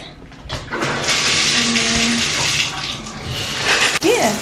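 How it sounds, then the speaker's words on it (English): Shower water runs in a bathroom with a broad steady rush of spray, fairly loud and close, with a few faint knocks and a brief squeak near the end. "I'm about to get in the shower"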